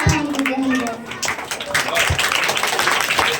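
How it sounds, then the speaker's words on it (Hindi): Applause from an audience at an Independence Day song program, clapping for children who just performed a patriotic song; scattered, moderately loud clapping runs throughout with a voice and a lingering sung tone over it. "जो भी तालियां हैं ये कमजोर ताली है इन बच्चों के लिए"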